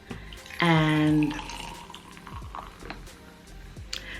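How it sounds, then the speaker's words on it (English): A drink poured into a glass indoors: a short, bright liquid splash of under a second, followed by quieter clinks and handling noises in a calm room. "Let me just pour myself a drink"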